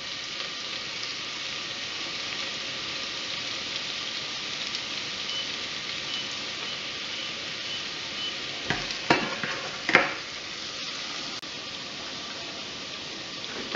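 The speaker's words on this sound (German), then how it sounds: "Als erstes schlitzen wir die Schalotten in ein bisschen Butter an." Shallots sautéing in a little butter in a pan, a steady, even sizzle that goes on throughout, with a couple of brief clinks of a utensil near the end.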